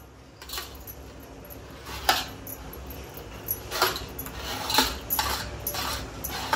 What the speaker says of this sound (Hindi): देखो चम्मच से ऐसा घिसने का अच्छा से।